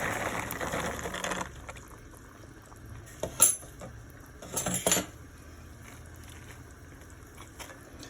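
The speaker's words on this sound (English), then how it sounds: "I'm gonna add our beans in there." Beans go into a pot of turkey neck bones, with a soft pour and splash, sharp metallic clinks of a utensil against the pot, and quiet bubbling in the pauses.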